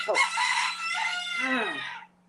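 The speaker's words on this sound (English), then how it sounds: "For me, it's a cock-a-doodle-doo." A rooster crows once, close and loud, in a long drawn-out cock-a-doodle-doo that rises, holds and then falls away, with a steady low hum underneath.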